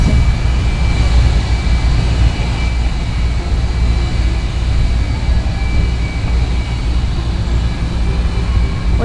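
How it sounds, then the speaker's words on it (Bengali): A motor launch approaches on the Ganges, a constant loud low engine drone with broadband rumble holding steady throughout, no voices over it. "ওই পাশ দিয়ে একটা লঞ্চও আসছে।"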